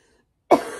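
A single short, sharp cough from someone who is sick bursts out close after a moment of near silence and fades quickly.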